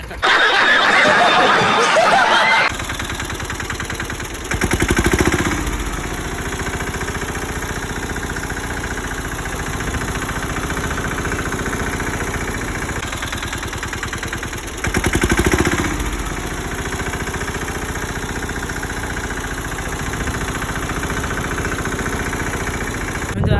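A tractor engine idles steadily on a farm, a loud continuous mid-pitched chugging with two brief revving bursts; no one speaks over it.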